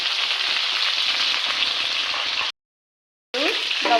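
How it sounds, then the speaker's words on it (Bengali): Olives frying in hot oil with tempering spices for a homemade olive pickle, giving a loud, steady sizzle that cuts out briefly and returns, with no talking. "সব কিছু একসঙ্গে তেলের মধ্যে ফোড়ন দিয়ে জলপাইটা বসানো হলো"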